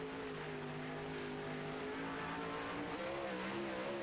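Dirt track race cars in a racing game roar steadily past on a qualifying lap, engine pitch droning and shifting with a hint of tire scrub, continuous and moderately quiet.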